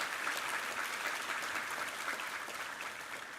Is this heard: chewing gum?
no